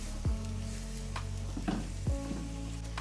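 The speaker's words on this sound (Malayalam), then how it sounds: "ആൻഡ് ഇത് നല്ല ബ്രൗൺ ആവുന്ന വരെ ഒന്ന് സോട്ടേ ചെയ്യുക." Two cups of finely chopped onions sauté in hot oil in a pan, sizzling steadily and loudly, with a few sharp scrapes of a spatula stirring them.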